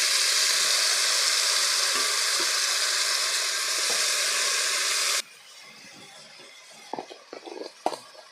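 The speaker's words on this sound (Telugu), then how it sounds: "ఇలా కలుపుకున్న తర్వాత ఇందులోకి ముందుగా కట్ చేసి పెట్టుకున్న టమాటాలని యాడ్ చేసుకోవాలి." Chopped tomatoes hit a hot pan for a meal maker tomato curry, giving a loud, steady sizzle that cuts off abruptly, leaving quiet scraping and clinks of stirring.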